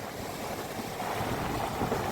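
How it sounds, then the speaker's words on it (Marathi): Rough, rumbling wash of sea surf breaking on a Konkan beach, mixed with gusty wind, swelling slightly toward the end, no voices. "मोठे मोठे लाटा येतात"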